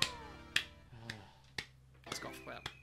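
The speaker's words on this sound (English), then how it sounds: "That's a golf clap and a half." Slow, sparse golf claps, about six single sharp hand claps spaced roughly half a second apart, over soft tonal game-like sounds with Mario 64 playing.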